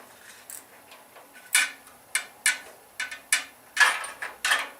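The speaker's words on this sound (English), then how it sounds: "This is one of those fine tooth ratchets." A fine-tooth ratchet wrench works on intake manifold bolts of an 1800 Mini stroker engine, giving a close series of sharp, uneven clicks in short bursts with pauses between strokes and no talk.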